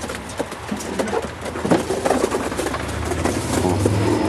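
Pigeons coo low and throaty in a loud, busy racing-pigeon loft, with fluttering and shuffling around the birds and no talk.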